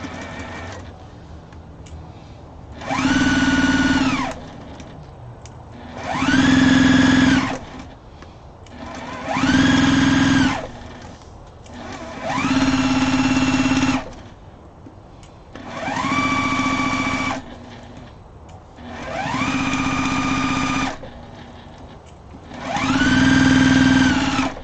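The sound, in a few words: sewing machine stitching fabric placemats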